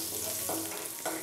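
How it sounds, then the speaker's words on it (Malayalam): Small onions sauté in a pan over a medium flame for a brinjal masala, giving a steady close sizzle with a couple of brief stirring scrapes over the 1.3 seconds. "ചെറിയുള്ളിയും ചേർത്ത് കൊടുത്ത ശേഷം നല്ല രീതിക്ക് തന്നെ എല്ലാം കൂടി ഒന്ന് വഴറ്റി കൊടുക്കുകയാണ്"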